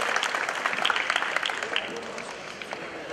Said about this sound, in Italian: Un applauso al nostro Presidente